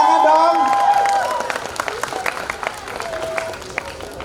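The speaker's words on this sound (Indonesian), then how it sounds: "Oke, tepuk tangan dong." Audience applause at a university innovation showcase event, a burst of clapping from a crowd that tapers off over a few seconds, mixed with scattered voices and room noise.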